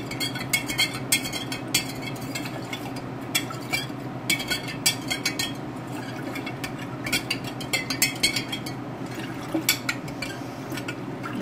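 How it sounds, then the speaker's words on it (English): A big spoon stirs sugar into a pot of sweet tea for kombucha, with steady scraping and light clinking against the vessel, small liquid swirls and a low background hum throughout, no talking. "I'm going to stir it to dissolve all that sugar"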